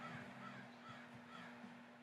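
Several crows caw repeatedly in a dense, overlapping chorus that fills the whole stretch, fairly loud and close, over a steady low electrical-sounding hum with no talking.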